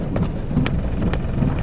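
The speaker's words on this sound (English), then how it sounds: "it's raining" Steady rain falls throughout with faint rumbles of thunder, a continuous wet wash under occasional soft crackles, no voices present.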